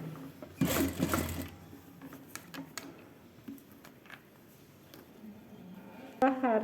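A sewing machine stitches a blouse with a bandeau neckline, with a short burst of fast needle chatter early on followed by scattered ticks and clicks from handling the fabric and machine.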